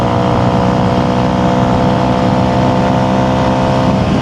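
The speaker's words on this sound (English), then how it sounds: "now I got it pinned. I got it absolutely pinned" A Honda CRF300L motorcycle fitted with a Yoshimura full exhaust holds wide-open throttle, giving a loud, continuous, steady engine drone with strong harmonics and wind, close to the rider throughout.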